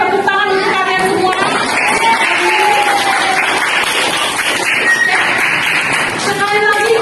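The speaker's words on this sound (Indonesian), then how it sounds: "Oke, tepuk tangan untuk kalian semua." A classroom of students claps together, lively dense applause mixed with excited voices and chatter throughout, fairly loud and close.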